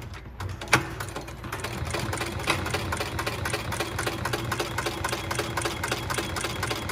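A Seiko SLH 2B 7 class heavy duty sewing machine stitches at a steady rapid pace, its motor hum and needle strokes forming an even rhythmic mechanical drone, close and continuous with no talking.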